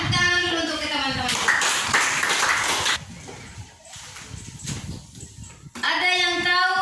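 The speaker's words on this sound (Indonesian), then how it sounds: "Tepuk tangan dulu untuk teman-teman." A classroom of children claps their hands together in a short burst between stretches of talk, loud and close, and then the clapping fades.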